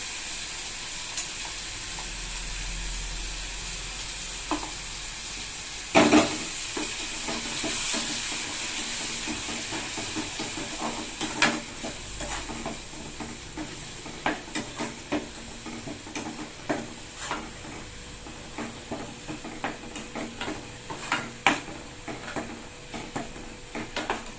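Onion and tomato sauté in a pan for a cauliflower and double beans gravy, giving a steady sizzle and hiss with scattered stirring clicks and scrapes throughout.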